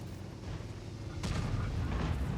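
An artillery shell explodes nearby in World of Tanks, a sudden heavy boom that jumps out of a low, rumbling battle background and rings on.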